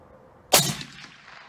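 A single sharp shot from a suppressed Ruger American 300 Win Mag rifle cracks out nearby, followed by a short fading decay into quiet.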